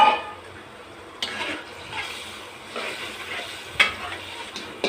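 Fish frying in a pan, a soft steady sizzle throughout with a few sharp spitting bursts as the oil reacts, close and alone without talk.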